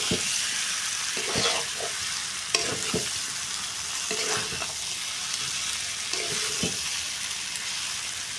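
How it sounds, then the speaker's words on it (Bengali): Spices and garam masala sautéing in a pan for Bengali aloo dum, a soft continuous sizzle broken by several scraping stirs of a spatula, close but fairly quiet, with no voices. "এটা হালকা গরম মশলা পাউডার দিলাম, দেওয়ার পরে এরকম করে মশলাটাকে কষিয়ে নিতে হবে।"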